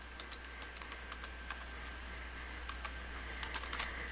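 Someone types a password on a computer keyboard, producing soft, quick key clicks in short bursts over a constant low background hum.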